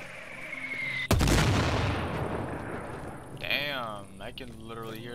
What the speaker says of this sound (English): Start firing the mortars!